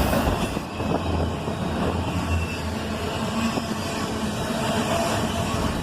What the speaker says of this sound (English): a quick horn salute from the engineer as a pair of AC44 CWs highball